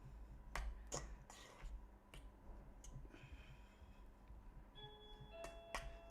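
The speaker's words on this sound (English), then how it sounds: "Oh, there's the doorbell." A doorbell chimes in a home kitchen while couscous is being fluffed, its sustained ringing tones entering near the end over sharp clicks and taps of kitchen work.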